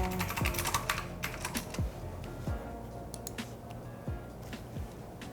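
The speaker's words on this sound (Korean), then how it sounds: "그쵸, 키보드 소리 좋죠?" Keys clatter on a computer keyboard in quick, uneven bursts of close clicks, with no voices.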